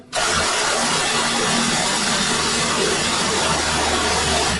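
A rechargeable, battery-powered, multi-nozzle car wash spray gun machine starts abruptly and then runs at a loud, steady, unbroken whir and hiss at close range, with no talking.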